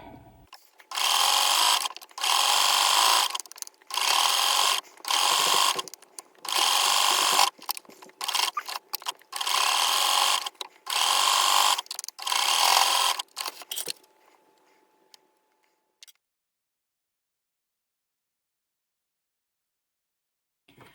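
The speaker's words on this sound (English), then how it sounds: "So now I am stitching on the outside just below the seam of the neck edge, and again using a stretch stitch." A sewing machine runs a stretch stitch along the neck band of a children's top in roughly eight loud, even bursts with brief pauses, then stops and falls nearly silent.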